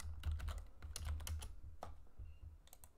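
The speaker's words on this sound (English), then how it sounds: "I'm gonna type the department names" Rapid keystrokes on a computer keyboard as department names are typed into an Excel data validation list, a fast, steady run of close clicks over a low background hum.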